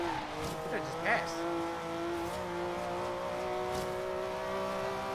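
A Porsche engine hums at a sustained, slightly rising pitch as it is driven in Forza Horizon 3, with a brief tire squeal early on, fairly quiet under a player's talk.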